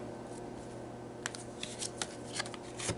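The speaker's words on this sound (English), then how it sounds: "let's pull another card here" Tarot cards are shuffled and drawn: a quiet, close series of crisp riffling flicks and snaps that grows busier toward the end, with no talk over it.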